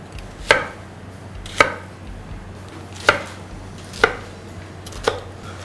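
Five sharp knife chops cut food into large cubes for a mushroom curry. They land at an uneven, unhurried pace on a board, close and distinct over a quiet background.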